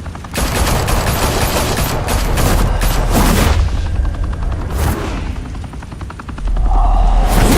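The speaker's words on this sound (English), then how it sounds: "Open fire!" Heavy gunfire in the Batman Telltale Series game, loud sustained automatic bursts and booming shots rattling on for several seconds with brief pauses, the barrage thinning out near the end.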